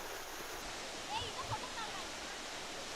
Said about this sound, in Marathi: खडकवासला धरण ओव्हरफ्लो झालंय